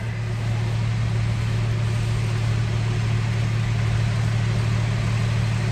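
A truck's steady low engine rumble idles nearby inside a building with big doors opening, constant and unbroken, with a strong low hum and broadband noise filling the background.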